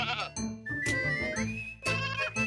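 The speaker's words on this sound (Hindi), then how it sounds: "अरे बहलूल चाचा, आपकी बकरी ने तो कमाल कर दिया।" A goat bleats in a farmyard, several long wavering cries in quick succession with brief gaps, loud and close, with no talking over them.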